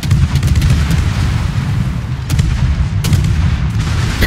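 Harugumo destroyer guns firing in a naval warship video game: loud, dense booms in rapid repeated salvos over a constant roar, with sharper blasts standing out near the middle and late in the passage.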